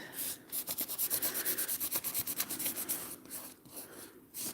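Dried masking fluid is rubbed off an alcohol ink painting in quick, rhythmic close strokes, a steady scratchy swishing pattern that pauses briefly near the end.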